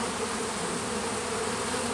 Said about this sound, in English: Looks like I've got busy bees.